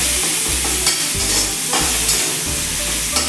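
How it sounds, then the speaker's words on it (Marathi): Cluster beans with green chili and garlic sautéing in a pan, loud continuous sizzle broken by a rhythmic run of spatula scrapes and stirs roughly every half second, close up with no voices. "हे छान असं परतून घ्यायचं"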